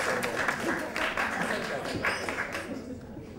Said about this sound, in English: Please give a big round of applause for Apple Juice